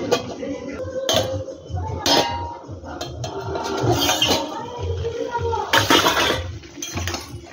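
Tomato added to a pan of vegetables, then the pan covered with a lid, giving clattering clinks of metal and utensils, a watery hiss, and a few sharp knocks, fairly close, with background voice or noise underneath.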